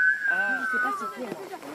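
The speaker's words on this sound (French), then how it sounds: "vous devez le faire en sifflant" A high, steady whistled tone glides slightly downward, then breaks into wobbly, uneven pitches alongside a voice.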